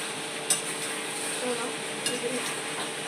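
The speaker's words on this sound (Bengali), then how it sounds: "বিরিয়ানি চিকেনটাকে কষাচ্ছি" Chicken for biryani is stir-fried in a pan, giving a steady close sizzle with a couple of soft spoon knocks and a brief scrape over about three seconds.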